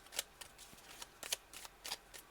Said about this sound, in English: I haven't shuffled these yet, so I'm going to shuffle them.